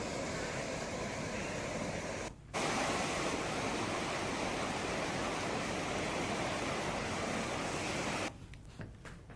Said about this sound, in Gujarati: હિરણ નદીમાં પૂર આવ્યું છે।